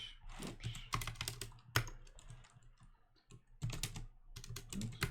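Quick bursts of keystrokes on a computer keyboard type a terminal command, close and clicky, with short pauses between the runs of typing.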